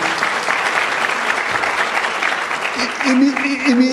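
An audience at a university emeritus-professor conferral ceremony applauds in a dense, steady clatter, and a voice speaks over the clapping toward the end.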